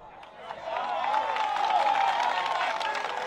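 Brief, moderate applause and some cheering rise from an audience during a religious debate comparing the Bible and the Quran, building after the first half-second and holding steady with crowd noise.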